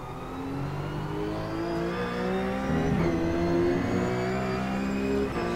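Race car engine in a racing video game accelerating out of the Wall of Champions chicane in second gear, a steady rising buzzy whine held at full volume with no voices.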